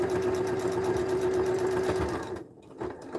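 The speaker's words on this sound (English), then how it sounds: "And I'm going to top stitch it at 1/4 inch." A sewing machine runs steadily as it topstitches a quarter-inch seam on fabric gift wrap, a close, continuous mechanical whir that stops abruptly near the end, leaving a few soft handling sounds.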